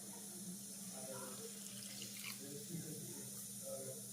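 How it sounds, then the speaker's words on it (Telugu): Water poured into a pot of sugar for syrup, a quiet steady running-water stream with faint talk underneath. "ఒక అరగిద్ద వాటర్ పోసుకుందాం."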